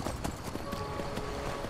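Horse hooves clip-clop at a quick running rhythm in Skyrim Special Edition, a steady close patter of footfalls over a faint background tone.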